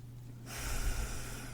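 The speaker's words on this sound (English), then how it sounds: "take a slightly deeper breath" A deep breath drawn in during a guided mindfulness meditation, a soft airy rush that swells and holds close to the microphone, with no talking.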